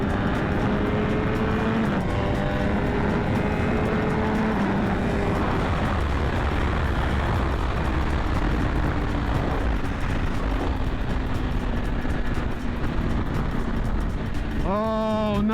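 A 2021 BMW S1000RR motorcycle pulls hard in second gear, its engine note climbing in pitch through the gear, then dropping and rising sharply again at the end, with steady wind rush throughout.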